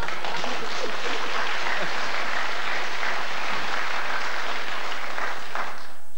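A studio audience at a BBC television talk show breaks into dense, sustained applause that fills the whole stretch evenly, with no break and no voices rising above it.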